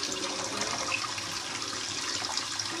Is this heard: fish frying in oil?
no